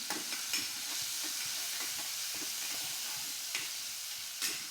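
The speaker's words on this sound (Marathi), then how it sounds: "हा व्यवस्थित परतून घ्यायचा आहे" Green chili, garlic and cumin paste sizzles steadily in hot oil in a kadhai, with a dense continuous frying hiss and occasional scraping stirs of a spatula, close and fairly loud.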